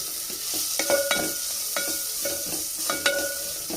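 Green chilli, ginger and garlic sizzle in a pan while a spoon stirs them, a steady close frying hiss broken by several clicking scrapes of the utensil against the pan; no talking.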